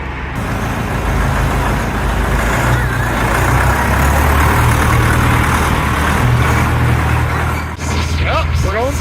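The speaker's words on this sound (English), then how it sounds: "Got the old 6806 taking us down there." A John Deere 6806 tractor engine drones steadily on a rainy outing to cut tamarack fence posts, a loud low rumble that barely changes. Near the end it dips briefly and a faint voice is heard.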